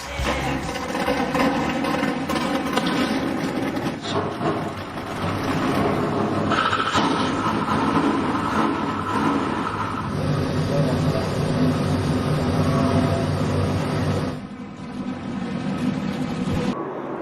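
NASCAR Truck Series race trucks roar away at the start of a race at Texas Motor Speedway, a dense continuous engine drone with crowd noise, while a commentator talks over it.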